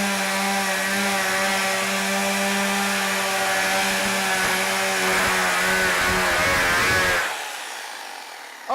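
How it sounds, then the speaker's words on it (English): A loud, steady chainsaw roars at full throttle cutting a hole in a plastic bucket, its motor droning for about seven seconds before it cuts out and idles down, no voices. "We're gonna do a chainsaw hole"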